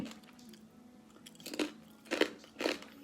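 Someone eats khanom jeen with pork crackling chili paste, with three close crunchy bites and chewing rising from a quiet room, each crunch distinct and spaced about half a second apart.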